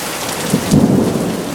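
A distant thunder boom rolls through a rainy thunderstorm, a low rumble swelling midway over a steady loud hiss of rain, with no voices.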